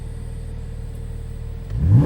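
A 2014 Porsche Carrera S Cabriolet idles with a steady low rumble, then its engine revs sharply upward near the end, loud and close.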